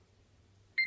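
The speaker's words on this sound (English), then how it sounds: "And that's the alarm that goes off. It tells me I've had the fridge door open just that wee bit too long" A Miele KD28032 fridge freezer sounds its door-open alarm, one sharp electronic beep arriving abruptly after a quiet low hum.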